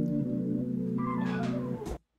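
A jazz piano chord, a 13 no 5 voicing from Cory Henry's Faith, rings out sustained and full with an upper note added midway, then cuts off abruptly after about two seconds.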